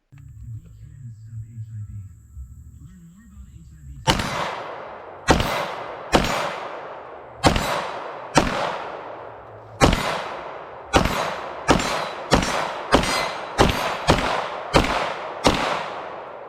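An Intratec Tec-9 pistol fired outdoors, about a dozen loud sharp shots at irregular spacing with ringing decays, after a few seconds of quiet low rumble.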